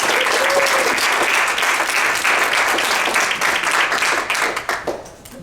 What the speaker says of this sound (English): let's give Kathy another big round of applause